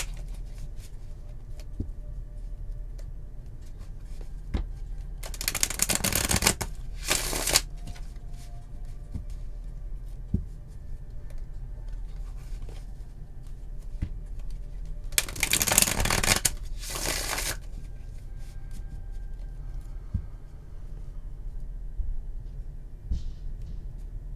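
A deck of Grand Luxe Tarot cards is shuffled in two separate bursts of quick riffling, each about two seconds long, between long quiet stretches with occasional faint taps.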